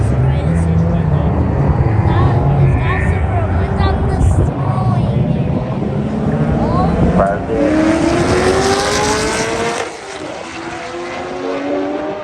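A Corvette and a Toyota Supra drag race, with loud, sustained engine roars rising in pitch through the gears. A second car's revving sweeps in partway through, and people talk underneath.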